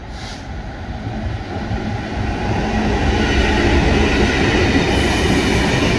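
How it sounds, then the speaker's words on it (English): A train rolls past on a Scottish railway, a steady loud rumble of wheels and carriages that builds over the first seconds and holds at full strength to the end, with no voices. "that's my favourite train to see"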